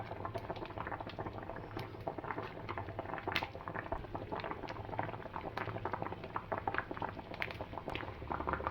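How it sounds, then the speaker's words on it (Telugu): Andhra-style vanjaram fish curry with raw mango pieces and fish masala bubbles vigorously in a pot, a close, continuous burble of popping bubbles and simmering liquid with no voices. "చూసారు కదండి, బాగా ఉడుకుతుంది."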